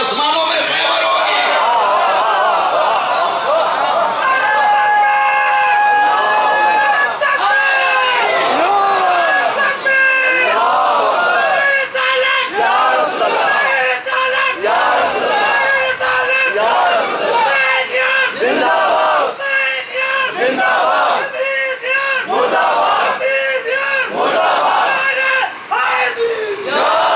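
A large crowd at a Shia mourning (azadari) gathering in Sarriya, Bihar, chanting religious slogans in loud, continuous massed voices, with rhythmic surges and shouted calls throughout.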